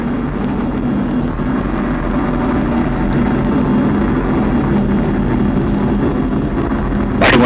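Rocket engine thrust during NASA's Lucy probe launch, about thirty seconds into flight, a loud, continuous low roar that holds steady throughout with no talk.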